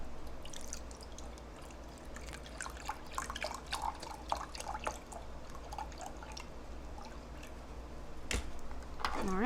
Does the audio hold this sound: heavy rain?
no